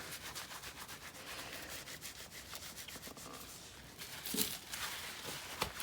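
Wet wool felt being rubbed along the edges of a handmade felted phone case, a steady close scratchy rubbing texture with a slightly louder burst of friction near the end, no talking.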